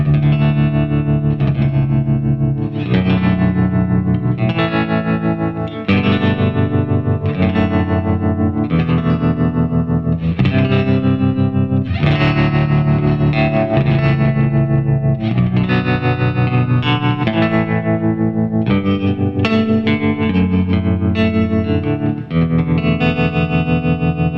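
A distorted Floyd Rose-equipped electric guitar plays a steady run of chords and riffs through an amp, thick and loud with a chorus-like shimmer, no voices.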